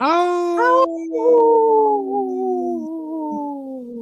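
A wolf howls in a long, sustained, slightly wavering tone that slides gently downward, loud and close, with a second voice joining in briefly partway through.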